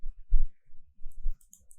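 Two or three soft, close clicks from a computer mouse, with brief faint ticks between them in an otherwise quiet room.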